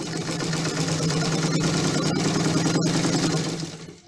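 A sewing machine stitches a straight seam through a fabric scrap, running as a steady, fast mechanical whir with a rhythmic needle chatter for about four seconds before winding down, close and alone.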